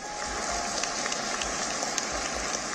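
Applause rolls through an award ceremony hall, a steady wash of many hands clapping, distant and even, without voices.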